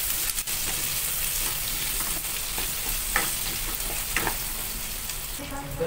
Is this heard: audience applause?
no